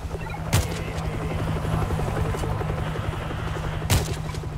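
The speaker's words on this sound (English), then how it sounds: "Is that a helicopter?" Military helicopter in the World War Z video game (Moscow level), a steady low rotor drone filling the whole stretch with two sharp booming bursts like distant gunfire over it.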